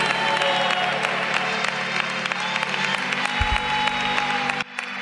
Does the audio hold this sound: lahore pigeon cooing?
no